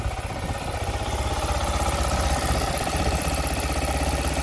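A Fantic E Casa 250 motorcycle engine idles nearby with a steady, loud, even putter and no talking over it.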